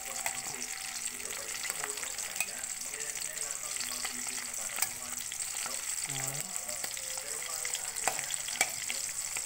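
Dried fish (tuyo) fries in an oiled pan with a steady, continuous sizzle, stirred now and then with soft scraping clicks throughout.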